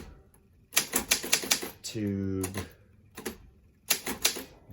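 Keys clack in quick bursts on a Hermes Standard 8 manual typewriter as a heading is typed, with a short ratcheting zip of the carriage or platen in between, close and crisp.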